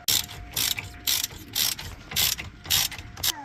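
A ratchet clicks back and forth while unscrewing T30 Torx screws holding a car brake disc, about seven crisp bursts of rapid metallic clicking in a steady rhythm, close and alone.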